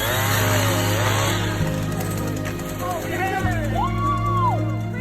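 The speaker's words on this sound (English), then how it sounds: "to separate the animals using a chainsaw" Chainsaw cutting apart the locked antlers of deer, a steady close engine drone throughout, with a voice talking over it and rising whine-like tones near the end.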